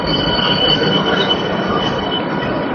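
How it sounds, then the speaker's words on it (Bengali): An AC passenger train pulls out of platform 5 at Ranaghat station, producing a continuous close rumble of wheels on rails with a high, sustained metallic squeal throughout. "ট্রেন ডিপার্চার করলো রানাঘাট স্টেশনের 5 নম্বর প্ল্যাটফর্ম থেকে।"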